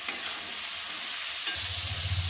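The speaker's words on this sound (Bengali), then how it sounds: "আমি সমস্ত সবজিগুলো ভালোভাবে ভেজে নেব।" Vegetables with curry leaves and chopped tomato fry in a pan for a spicy semolina upma, a loud continuous sizzle with a scrape of stirring near the end and no voices.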